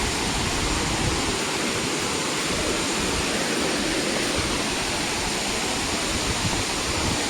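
Agaya Gangai waterfall in the Kolli Hills pours with a heavy flow of water, making a dense, unbroken roar that stays steady and loud throughout, with no voices.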